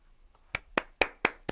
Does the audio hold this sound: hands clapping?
yes